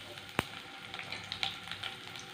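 Chopped garlic with mustard seeds frying in hot oil gives a steady close sizzle, with one sharp crackling pop early on and small spitting pops scattered through.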